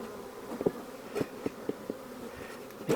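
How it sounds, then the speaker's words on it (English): Bees buzz steadily inside a wooden hive box being worked with a smoker, a continuous low hum broken by several sharp thumps and clicks, close to the microphone. "We better give these bees a smoke before they get too carried away"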